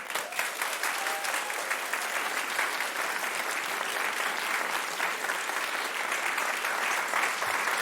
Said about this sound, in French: On va accueillir Delphine Hennen sous vos applaudissements.